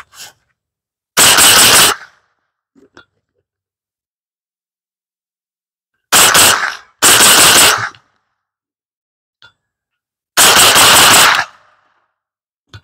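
An AR9 pistol-caliber carbine with a TriggerTech 3.5 lb flat single-stage trigger fires four loud, fast bursts of rapid shots at an outdoor range, separated by silent pauses.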